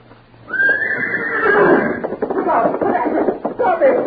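A horse neighs loudly and at length, a rising whinny that breaks into shaky snorting calls, close by and mixed with faint hoof knocks and a voice.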